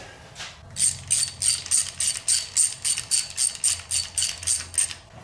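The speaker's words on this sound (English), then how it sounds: "Now to unlock the nuts without loosening the stud." A wrench ratchets in a steady run of about a dozen quick, close clicking bursts while loosening the upper of two double-nutted nuts on valvetrain studs in a 1964 Corvette engine.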